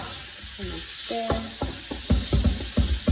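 Mince meat sizzling in a pan while being stirred, a constant hiss under a series of sharp scraping and clacking strokes that grow more frequent toward the end, close and fairly loud, no talking.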